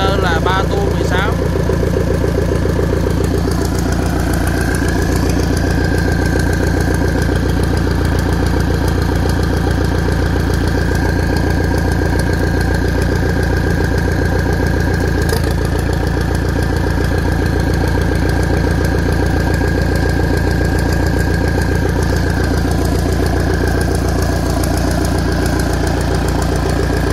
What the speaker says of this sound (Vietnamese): nạp ga để quý khách hàng cùng cảm nhận lực máy và thanh turbo tăng áp